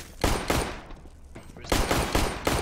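Loud, close gunfire in Counter-Strike, with a few quick shots, a short lull, then another rapid string of shots.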